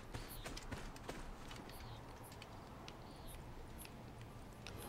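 Rapid hoofbeats of a galloping horse in the video game Assassin's Creed Origins patter steadily under a faint, busy background, with occasional high chirping tones.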